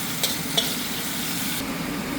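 Tomatoes sizzle in a pan while being stirred for sautéed vegetables with leftover fish. Two sharp utensil scrapes sound early over a soft, continuous frying hiss.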